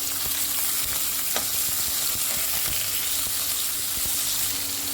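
Potatoes with asafoetida, green chilies and cumin fry over high flame in a pan, giving a constant, dense sizzle with occasional clicks of stirring, close and steady with no talking.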